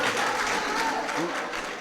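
Clapping from listeners at a mushaira poetry gathering in a function hall, a brief even burst of many hands applauding together, fairly loud and fading slightly at the end.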